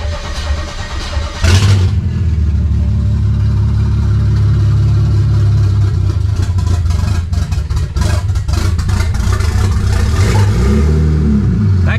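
A budget DIY forged BMW N54 engine cranks and fires up, then settles into a loud, steady idle with a few throttle blips, recorded close by with no talking.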